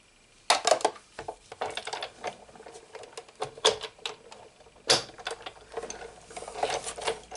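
Scissors snip paper while a small heart is cut out for a handmade card, giving irregular close crisp cuts and rustles with short pauses between them.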